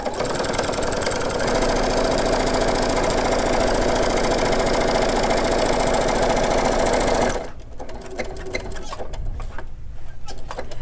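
A sewing machine back stitches to lock a seam on a microwavable popcorn bag, a rapid steady mechanical whir running for about seven seconds before stopping abruptly, followed by quieter handling noises.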